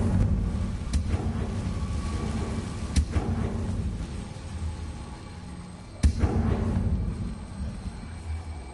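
Confringo fire spell blasts in Hogwarts Legacy, three sharp explosive cracks about three seconds apart, each followed by a rumbling tail over a low ambient game bed.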